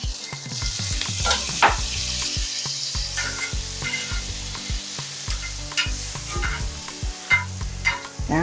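A pat of butter sizzles in a hot pan, a close, steady frying hiss broken by clinks and scraping strokes, with brief crackly bursts throughout.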